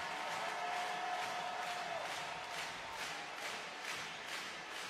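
Basketball arena crowd before a Basketball Champions League opener between SIG Strasbourg and Petrol Olimpija, a distant, steady roar of cheering with rhythmic pulses like clapping or chanting.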